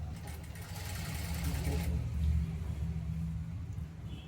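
A sewing machine stitches a sleeve onto a kameez bodice, giving a steady low motor whir that runs continuously, with a slight swell midway, close to the listener.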